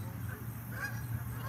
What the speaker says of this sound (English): that duck don't come over here, duck.